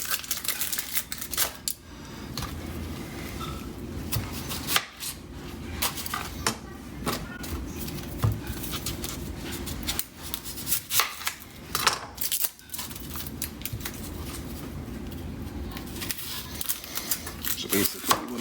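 A knife trims a bad spot from an onion on a board while carnitas are prepped in cast iron, giving scattered short clicks and scrapes amid soft kitchen clatter, with someone talking intermittently over it.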